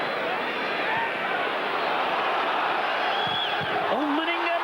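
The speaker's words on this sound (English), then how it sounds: "every challenge will be met by uproarious roars of delight from the home crowd" Home football crowd at Preston North End's ground during an FA Cup third-round match against Arsenal, roaring steadily in a dense, continuous wall of noise with whistles and shouts rising above it.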